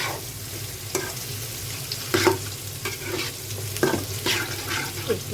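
Capsicum being stir-fried for fried rice sizzles softly in a pan, with intermittent scraping strokes of the spatula and light clatter in an irregular rhythm.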